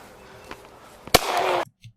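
A single sharp gunshot cracks during a police encounter with a knife-wielding suspect, one loud close blast followed by a brief burst of noise that cuts off abruptly.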